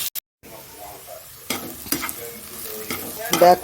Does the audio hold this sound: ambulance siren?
no